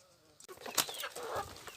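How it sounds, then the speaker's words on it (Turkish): Village chickens about to be fed barley cluck and flap, with a quick burst of wingbeats and soft clucking close by at a low level. "Tavuklarımıza yemini verelim"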